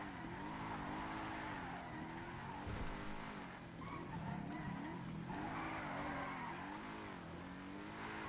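Car in a video game performing a J-turn, tires skidding and squealing over a revving engine, loud and sustained with repeated screeching bursts.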